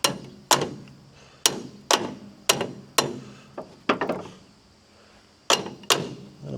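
A wrench works loose a tight nut on a John Deere combine during feeder house repair, giving a series of sharp metallic clanks and ratcheting knocks in uneven bursts, close and fairly loud, with no talk.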